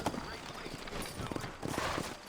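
Horse hooves clip-clopping in the Western video game Red Dead Redemption, an irregular run of soft hoof knocks at moderate distance, under a quiet background with speech-like sounds.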